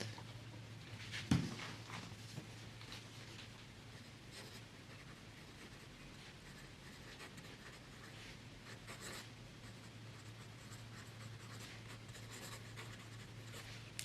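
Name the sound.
extra fine fountain pen nib writing Aurora Blue ink on Rhodia paper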